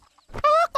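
A cartoon chicken clucks up close, a short soft lead-in followed by a sustained tonal squawk and one brief final cluck, with no talking over it.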